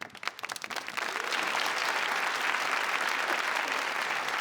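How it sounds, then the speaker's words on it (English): A crowd bursts into applause to welcome a special guest, a few scattered claps at first, then a steady, dense roar of clapping that holds evenly to the end with no voices over it. "let's give an awesome round of applause for our special guest, EliteReverser."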